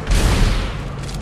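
Rapid burst of gunfire from a futuristic weapon in the sci-fi horror game Dead Space 2, loud and booming with heavy low-end thuds that fade slightly toward the end.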